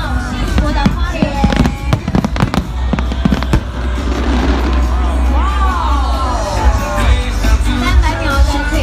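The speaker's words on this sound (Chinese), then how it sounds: "300秒的璀璨烟火秀照亮我们天空。" A New Year's Eve fireworks show at a countdown party in Hualien pops and bangs in rapid clustered bursts, then gives way to crackling and whistling while a crowd cheers and yells.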